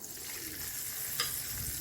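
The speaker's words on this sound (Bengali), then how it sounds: "ভাজা হয়ে গেছে, এবার আমি পেঁয়াজটা দিয়ে দেবো।" Onion frying in a wok for chicken Schezwan fried rice, a steady hissing sizzle with light stirring and one brief scrape, close and continuous with no talk.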